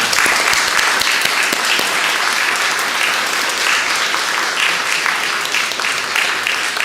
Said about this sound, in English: If there is no objection, I will please ask for you to applause